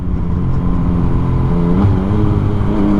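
A Yamaha MT09 motorcycle fitted with an Akrapovic exhaust drones loud and close in a steady, throaty engine note that rises slightly toward the end, with no voices over it.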